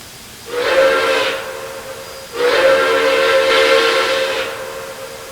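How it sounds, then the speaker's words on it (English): Two loud whistle blasts from New York Central Dreyfuss Hudson steam locomotive 5450, a short one followed by a longer sustained one, each with a breathy hiss over a steady tone. "5450 gives 2 blasts of its whistle"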